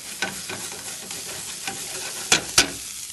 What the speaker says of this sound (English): We want to get them in also with the butter so that they slightly toast